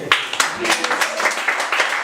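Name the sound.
audience applause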